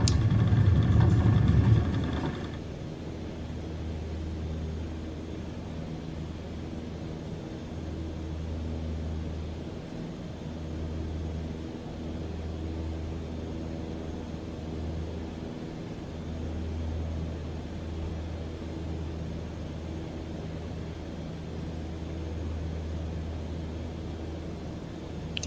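Cessna 152 piston engine at full throttle on takeoff in Microsoft Flight Simulator 2020, a steady loud droning hum with low harmonic bands after a brief louder burst at the start, continuous and alone.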